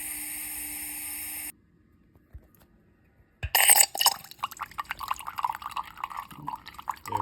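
Water rushing into a hot water boiler and radiator heating system, a hiss that falls silent, then gurgling, dripping and splashing flow surges in close and fairly loud.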